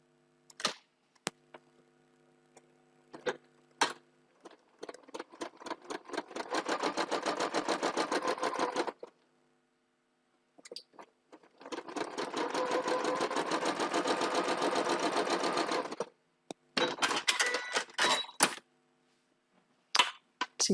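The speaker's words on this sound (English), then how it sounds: "I'm going to sew these 2 together with a different colour thread so that you can see what's going on." A sewing machine joins 4-patch quilt block pieces, right sides together, with contrasting thread. It makes two close, rapid stitching runs of several seconds each, separated by quiet pauses and light clicks.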